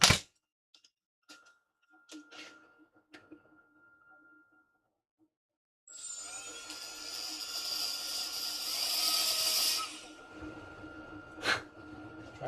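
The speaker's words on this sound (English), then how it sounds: "I can hit that with the guide grinder real quick. Give it a little gouge right there." A die grinder gouging into a Ford Festiva 6-speed transmission in a workshop, a high whining grind that runs for about four seconds after a few faint knocks and clicks, then cuts off, with quiet talk.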